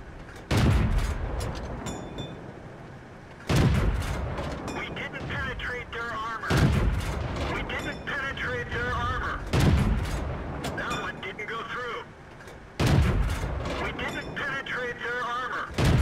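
A tank cannon in the World of Tanks video game fires five heavy booming shots, evenly spaced about three seconds apart, each one followed by a rumbling tail, with faint voice chatter in the background.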